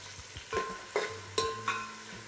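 Onions frying in a pan for homemade chicken biryani, a low sizzle broken by several distinct stirring scrapes and clinks spaced about every half second.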